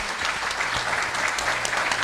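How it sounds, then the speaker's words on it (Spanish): A gathering applauds doña Emeteria Martínez at an event about Las Patronas and COFAMIPRO, a steady, dense round of clapping from many hands, loud and unbroken, without speech. "yo quisiera que hoy le demos un fuerte aplauso a doña Emeteria Martínez"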